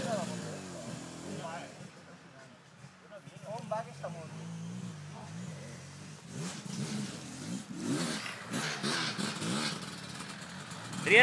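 Enduro motorcycle engine revving and accelerating in bursts on an outdoor trail, rising and falling in pitch at mid distance, with people shouting and talking over it.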